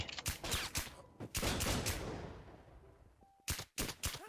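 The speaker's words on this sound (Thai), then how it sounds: "เนี่ยมมีคนยิงเราอ่ะ" Burst of video-game gunfire: several sharp, loud shots crack in quick succession near the start, a dense rattling spell fades out, then two more close, loud shots land near the end.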